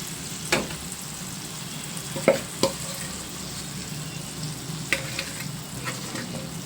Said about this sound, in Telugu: ఈ మామిడికాయ తురుము ఏదైతే ఉందో అది ఈ ఆయిల్లో వేసేసుకుని మొత్తం కలిసేటట్టు బాగా కలిపేసుకుంటే